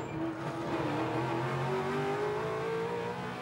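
A vintage racing car's engine roars steadily and close, its pitch sliding slowly as it bumps over a curb mid-race and keeps driving, with a faint tyre scrub under the continuous engine note.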